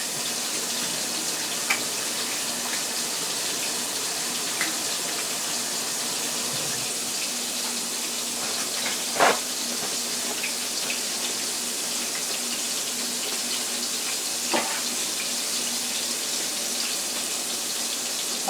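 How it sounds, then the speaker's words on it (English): Hands rinsed under a running kitchen tap, a steady close hiss of flowing water with a few faint clinks, no talk. "Let me wash my hands."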